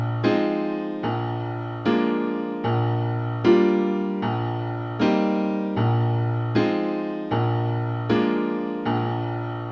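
A piano plays in a steady, even rhythm, alternating low bass notes with fuller chords. Each strike rings and decays before the next, about a dozen in all.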